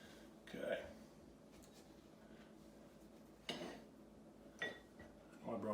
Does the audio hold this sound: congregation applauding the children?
no